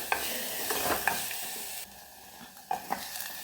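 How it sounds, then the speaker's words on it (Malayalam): Ground coconut spice paste for pulisseri sizzles in a hot pan while a spoon stirs and scrapes it, with sharp clinks at irregular moments. The frying is close but fairly quiet and drops lower partway through. "നമ്മൾ അരച്ച് വെച്ചിരുന്ന അരപ്പ് ഇതിലേക്ക് ഇട്ട് കൊടുത്തു"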